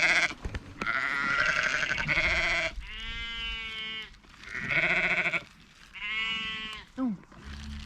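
Sheep on a farm bleat loudly and close by in repeated long wavering calls, some overlapping, with people talking in between.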